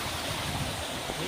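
Water falling steadily into a full stream or pool, a continuous rushing wash of close, moderately loud noise with no voices.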